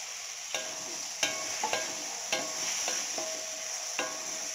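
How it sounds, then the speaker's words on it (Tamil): Drumstick pieces sauté with softened tomatoes in a pan for sambar: a quiet sizzle under several sharp spatula taps and scrapes against the pan, spaced about once a second, no speech. "கொஞ்ச நேரம் நல்லா ஒரு 2 நிமிஷம் முருங்கைக்காய் வதங்கணும்"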